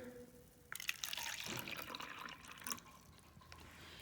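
Water splashes and trickles into a cup for a few seconds, a brief burst of liquid noise close by after a quiet start.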